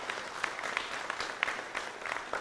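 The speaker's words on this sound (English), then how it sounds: "Again, one more round of applause for Ms." Applause from an audience at a youth public speaking event, scattered hand claps rising from a quiet, fairly faint room in steady irregular rhythm across the whole moment.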